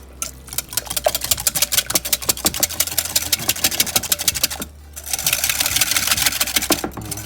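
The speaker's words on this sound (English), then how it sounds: "Now you can whisk." Yum yum sauce is whisked briskly in a bowl, giving rapid rhythmic clicking strokes that pause briefly around the middle and then resume, heard close up.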